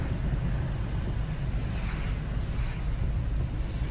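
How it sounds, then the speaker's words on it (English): Strong blizzard wind roars steadily during near-blizzard conditions on Cape Cod, a loud continuous low rumble buffeting the microphone with no talking. "Here's big time winds up here."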